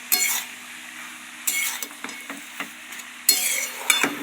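Bottle gourd and shrimp curry with green chilli, chilli powder, turmeric and spices being stirred in a pan, with several bursts of scraping and clinking from the spoon over a low sizzle.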